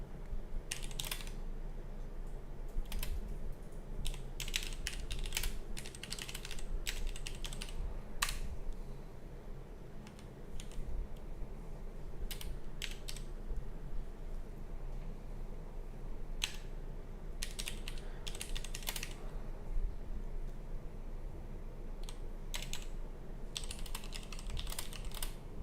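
Someone types notes on a computer keyboard, steady clusters of clicky keystrokes close by over a low, constant room hum, with no talking.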